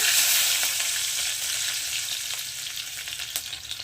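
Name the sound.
chopped garlic frying in hot oil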